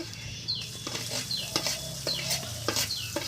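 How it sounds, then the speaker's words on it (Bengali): Deboned spiced fish fingers frying in a pan, with steady close sizzling and several soft scraping stirs at regular intervals. "এটাকে আমি ভালো করে ভেজে নেব।"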